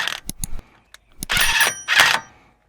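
Impact wrench undoing a CV axle nut on a car during a split CV boot repair, heard as several short rattling bursts followed by two longer hammering runs, close and loud, with brief gaps between.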